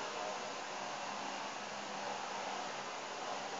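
A vacuum cleaner runs indoors at a distance with a steady, unbroken whooshing hum that never changes in level.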